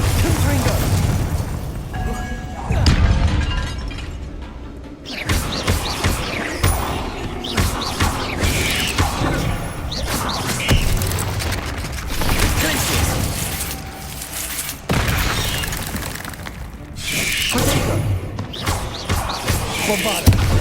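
Repeated Bombarda and Confringo spell blasts in Hogwarts Legacy combat, a rapid string of loud booming bursts and pops close by, one after another with little pause, over game effects and voices.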